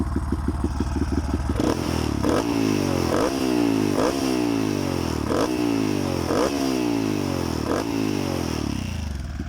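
A Honda MSX 125 with an off-road style exhaust idles with a fast, burbling chatter, then is revved repeatedly in a regular series of sharp, rising blips that each fall back, loud and close.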